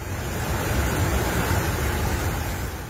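Waves crash on a beach in Calayan, Cagayan, during Super Typhoon Nando, a steady, loud roar of surf with gusting wind noise and no pauses.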